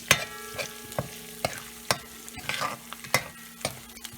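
Whole star anise, three cloves and four cardamom pods fry in hot oil while a spoon stirs them, producing a close, moderate sizzle with a rapid series of sharp scraping clinks roughly every half second.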